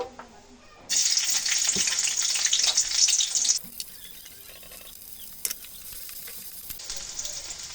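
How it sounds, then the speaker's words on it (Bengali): Onion and green chili hit hot oil with a sudden loud sizzle that roars for a few seconds, then settles to a quieter crackle before flaring up again near the end. "এখন আবার এই গরম তেলের উপরে একটু পেঁয়াজ আর একটু কাঁচা ঝাল হালকা করে ভেজে নেব"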